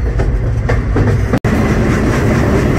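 Freight train rolling past close by on the KCS/UP line between Shreveport and Dallas, with a fully loaded tanker car in the consist. A loud, steady rumble and rattle of the cars comes with rhythmic clickety-clack from the wheels.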